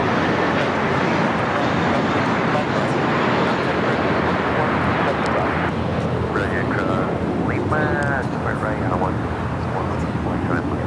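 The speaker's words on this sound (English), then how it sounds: "Lufthansa Queen now making her way over to the south side." A Lufthansa Boeing 747-8 taxiing toward the south side at LAX sends out a loud, steady jet engine rumble and whine, with voices and radio-like chatter over it in the later seconds.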